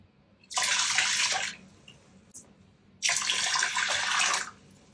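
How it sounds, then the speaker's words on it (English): Beautyberry juice is poured from a measuring cup into a pot in two separate splashing pours of about a second each, close and clear with quiet pauses between. "And then we're going to take 3 cups of this juice and put it back over in our pot."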